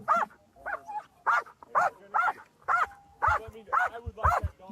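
A police dog barks in a steady series of about nine loud barks at close range, evenly spaced, with possible speech mixed in.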